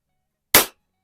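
Single sharp crack of a pellet from a Daisy Powerline 901 air rifle striking cardboard across a garage, one short isolated impact in silence.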